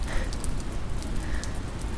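Rain falling outside on a rainy night, a soft, steady patter with faint scattered drops, quiet and continuous with no voices.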